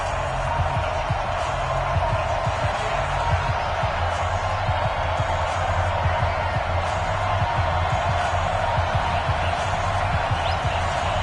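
Stadium crowd at a Kansas City Chiefs versus Los Angeles Rams game in a Madden football video game, a dense, steady roar of cheering and noise sustained throughout without a break.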